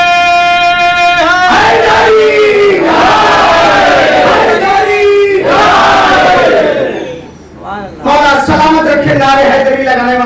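A large crowd at a Shia majlis gathering in Kanpur shouts a slogan together in loud repeated chanted waves, with a brief lull near the end before the voices surge back in unison.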